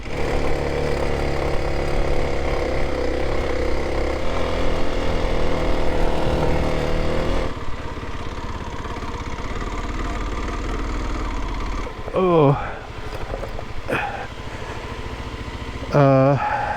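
A motorcycle engine running steadily on a climb up a Colorado mountain road while the bike is overheating, a continuous close drone that shifts tone partway through, with brief louder bursts near the end.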